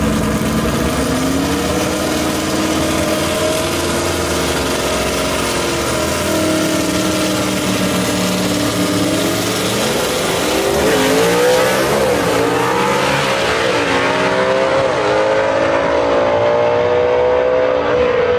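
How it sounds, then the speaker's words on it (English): Gasser drag race cars idle loudly at Gulfport Dragway, then rev hard and launch, with rising, sweeping engine roars that build steadily and close up near the end. "Ernie Smith with a whole shot win right there"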